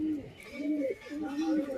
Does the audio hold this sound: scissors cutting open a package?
no